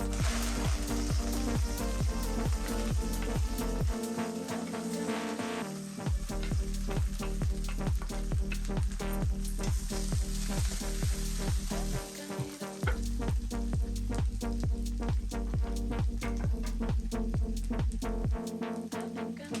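Onions fry in a pan and are stirred steadily, a dense, loud sizzle cut by rapid rhythmic scraping strokes of the spoon, with two brief pauses in the stirring.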